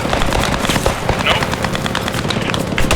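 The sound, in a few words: enemy mortar fire in the video game Post Scriptum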